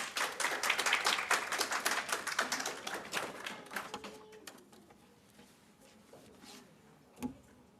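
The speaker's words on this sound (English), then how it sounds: "Let's welcome them with a warm round of applause." Audience applause welcoming speakers at a professional forum on ethical culture, fairly dense clapping for about four seconds, then thinning out and fading into quiet room noise, with one isolated thump near the end.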